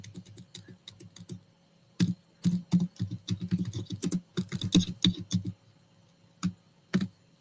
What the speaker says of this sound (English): Oh, typing, Janice.